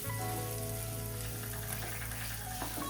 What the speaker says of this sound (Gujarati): તેને આપણે ઘીમાં સારી રીતે રોસ્ટ કરવાના છે